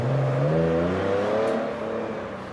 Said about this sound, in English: a passing car pulls up outside